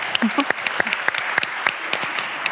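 A conference audience at an energy transition plenary session gives light, scattered applause: a sparse run of individual claps over a steady room hum.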